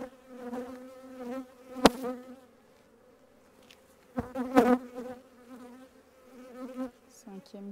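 Honeybees drone steadily during a spring hive inspection of a strong colony, a close, continuous buzz that swells and fades, with a few sharp knocks of frames being handled.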